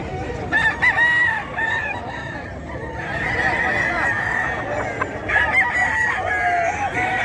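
Sweater gamefowl roosters crow repeatedly amid a busy Bocaue poultry market, with overlapping calls, clucks and a steady crowd murmur filling the background.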